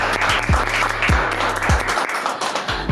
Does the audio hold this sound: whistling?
no